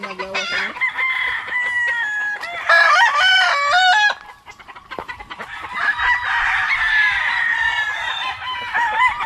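Young bull stag roosters at a backyard farm crow repeatedly and loudly, overlapping calls with some clucking between, close by and with no talk over them.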